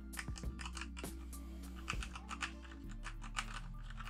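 Typing on a mechanical keyboard fitted with brown switches: a steady run of close, clicky keystrokes with a few heavier thumps, continuous and alone over a faint hum.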